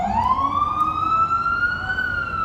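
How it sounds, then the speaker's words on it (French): An emergency vehicle siren passes along a New York street, one loud wailing tone sweeping upward over the rumble of traffic. "on entend une voiture avec une sirène et tout, et on les voit passer"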